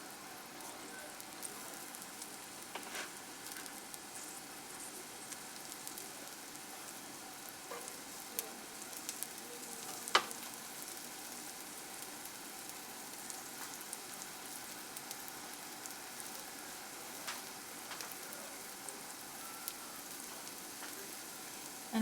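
Finely chopped shallot frying in a pan during baby-led weaning meal prep, a steady soft sizzle with faint crackles and pops throughout, quiet and even, with no talking.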